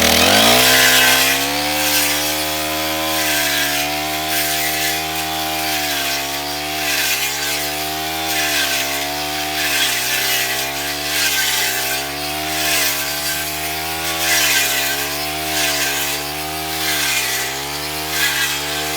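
A loud, steady brush cutter engine drones continuously, with a buzzing harmonic whine that wavers slightly as it cuts grass grown as fodder for buffalo and cows.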